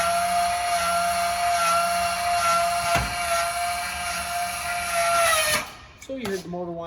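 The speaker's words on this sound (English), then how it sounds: "So you heard the motor wind up, so now you're going to be fully stable" An electric leveling jack motor on a 2025 Forest River Wildwood 36VBDS travel trailer whines steadily up close, with a couple of brief clunks, then strains and winds down to a stop near the end.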